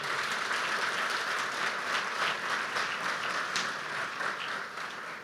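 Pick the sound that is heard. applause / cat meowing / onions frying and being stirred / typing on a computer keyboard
applause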